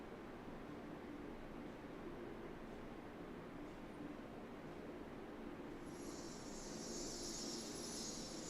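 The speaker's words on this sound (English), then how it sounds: "Sorry about all the airplane noise." Airplanes in a Cities Skylines city-building game make a steady broadband engine roar and rumble, with a higher whine joining near the end, continuous and moderately loud with no talk.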